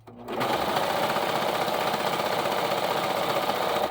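A serger stitches stretchy T-shirt fabric with a fast, even mechanical drone, loud and close. It starts up after a brief quiet moment and then runs steadily without pause, with no talking over it.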